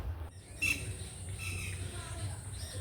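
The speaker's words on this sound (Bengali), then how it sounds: "পাখিগুলো দুষ্টু বাচ্চার মতো চেঁচামেচি শুরু করেছে" Birds chirp and chatter in scattered calls over a steady low hum, fairly distant and not very loud.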